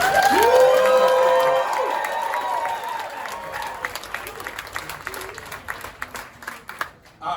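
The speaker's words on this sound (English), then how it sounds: "let's give a big cheer for our emerging designers for selling out" An audience breaks into applause and cheering at an award presentation, a warm wash of clapping and whoops that thins out into scattered individual claps toward the end.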